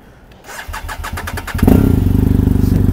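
A motorcycle cold-starts: a run of rhythmic starter cranks, then the engine catches and settles into a loud, steady, close idle.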